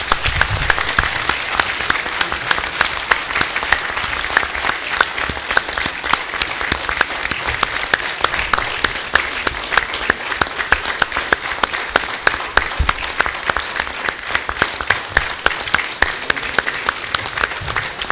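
Audience applause at the 2018 ECC Nigeria Humanitarian Response Plan launch, a loud, dense and steady clapping from a large crowd that holds for about eighteen seconds without a break.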